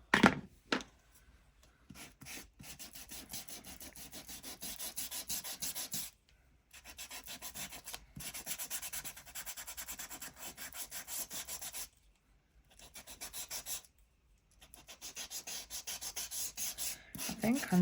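An electric disc sander grinds against wood in several bursts of steady rasping, separated by short pauses, fairly quiet and close.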